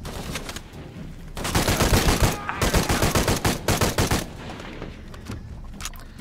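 Rapid automatic gunfire from the action game Shadow of the Tomb Raider, a dense burst of repeated shots lasting several seconds, loud and close, with sparser shots before and after.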